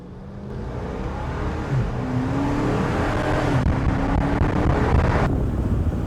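A Dodge Challenger engine pulls steadily under acceleration with a fairly subdued, rising drone, mixed with road and wind noise and no talk.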